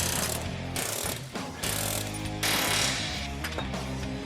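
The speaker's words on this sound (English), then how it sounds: "out comes the air hammer and chisel again" An air hammer drives a chisel against rivet heads on a Squarebody Chevy truck frame, a loud rapid metallic rattling in bursts with short pauses between, close up and harsh, with no talk.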